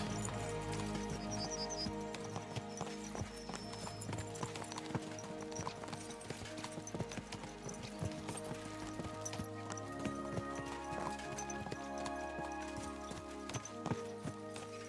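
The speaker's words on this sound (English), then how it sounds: "Let's really spur these horses on, eh?" Horses gallop in Kingdom Come: Deliverance 2, with steady, rapid hoofbeats clip-clopping over a medieval game soundtrack and ambient music.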